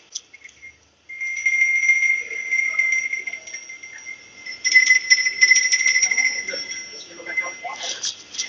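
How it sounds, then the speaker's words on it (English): Brass hand bells from a bell maker's village in Gujarat, India, ring with bright sustained tones, struck again in quick clusters that layer the ringing, with faint voices underneath. "All those bells. Okay, give them a ring."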